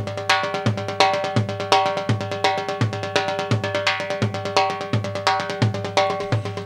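A timbales fill with bass drum played a bit faster, crisp ringing metallic hits in quick rhythmic runs over evenly spaced low kick thumps, loud and close with no talking.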